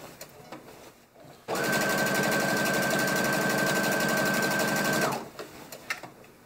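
A sewing machine hems denim-style high-waisted shorts close to the folded edge, starting abruptly and running at a steady fast, even whir for about three and a half seconds before stopping, loud and close with no speech.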